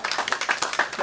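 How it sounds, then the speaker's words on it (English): An audience claps together at a Unity Center service in Norwalk, Connecticut, giving a short, dense burst of hand claps that stays steady and fairly close throughout. "Let's give ourselves a round of applause."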